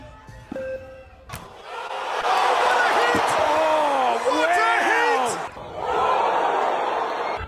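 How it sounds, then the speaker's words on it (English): A head-on collision contest on a mat, with two competitors running at each other: sharp slams and thuds ring out over a loud, cheering, whooping crowd, while voices shout throughout. "2 competitors stand at opposite sides of a mat and run towards each other to collide head-on with the purpose of knocking the other one down"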